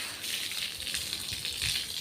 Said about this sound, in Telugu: ఇంకా మమ్మీ చూడండి నీళ్ళు కొడుతుంది మొత్తం.